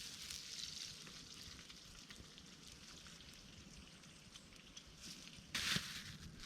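Bacon sizzles and crackles quietly in a pan over a campfire at a solo campsite, a faint continuous spitting hiss with one brief louder pop near the end.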